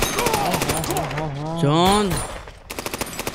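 Rapid machine-gun fire from a John Wick (2014) action movie scene, fast evenly spaced shots in bursts at the start and end, with a voice talking over the gap in between.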